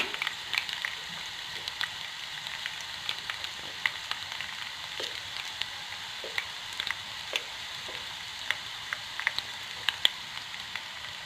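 Crushed garlic cloves sizzle in hot oil with curry leaves for a carrot pachadi, a soft steady frying crackle with scattered small pops.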